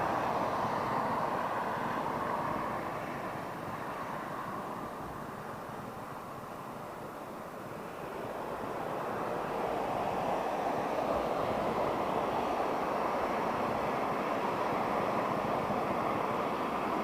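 An airplane departs Heathrow runway 09R, a broad distant jet roar that dips slightly in the middle and then swells again as it climbs away, sustained throughout.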